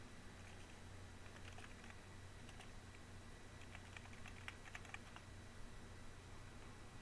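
Quiet computer keyboard typing in a sim racing setup, soft irregular key clicks in short bursts over a faint steady hum, no talk.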